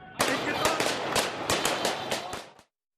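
Celebratory gunfire rings out in Manbij, Syria: a rapid, dense burst of many overlapping cracking shots, loud and continuous for over two seconds before cutting off abruptly.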